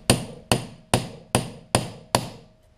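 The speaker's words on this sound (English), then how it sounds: "We're using our hand impact again. Makes breaking these things loose as painless as possible." Six sharp metallic strikes from a hand impact driver breaking loose Phillips screws on a Yamaha Blaster engine case, evenly spaced about every half second, loud and close with quick decays and no talk.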